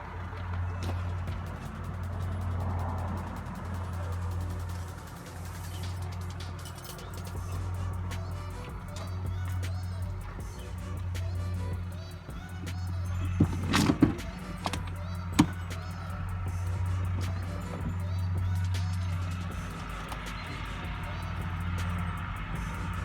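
A Kemso 340 fuel pump runs in steady pulsing bursts, a low rhythmic hum that repeats about every two seconds, with a few sharp clicks and knocks near the middle.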